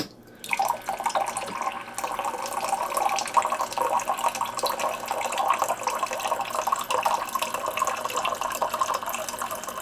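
A Ninja Thirsti drink machine runs its rinse cycle, a steady close stream of water trickling and splashing into a cup for nearly ten seconds after a quiet start, no talking.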